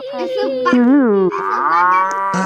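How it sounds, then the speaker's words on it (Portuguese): A Roblox cow gives a long, loud, wavering moo, with a few short clicks at the edges. "Tem uma vaca aqui."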